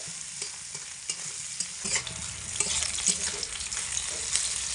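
Pieces of carambola fry in oil over medium heat, a constant close sizzle broken by intermittent scraping and stirring taps that grow a little busier toward the end, no one speaking.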